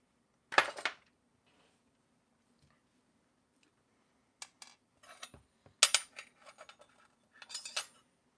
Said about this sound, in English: I need to mix and make some new pigment for this.